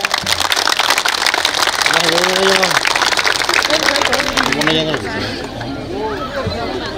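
Loud, dense applause from an audience at a live Kokborok music show, a sustained wash of clapping that fades somewhat toward the end, with crowd chatter and a voice calling out over it.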